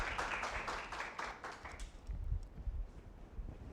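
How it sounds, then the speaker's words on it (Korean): A lecture audience at a university graduate student talk claps to welcome a professor, a brief burst of scattered hand claps that fades out within a couple of seconds, leaving low room noise. "자, 그럼 큰 박수로 모시도록 하겠습니다."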